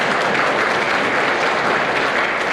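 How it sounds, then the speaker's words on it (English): Steady applause from an audience at an evening liberty forum event, a dense, even wash of clapping that stays loud and unbroken for the whole stretch. "Caroline definitely deserves an applause"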